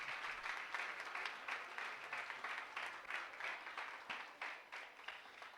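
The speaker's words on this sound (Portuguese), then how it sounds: "Aplauda ao Senhor Jesus." A church congregation applauding together during a service, a dense, steady clatter of many hands that fills the room and holds at a constant level without a break, heard at a moderate distance.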